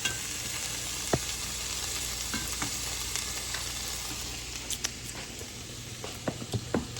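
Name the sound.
sausages and onions frying together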